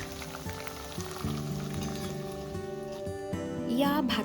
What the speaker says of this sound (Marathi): त्यासोबत तोंडी लावायला मी हे पापड तळतीये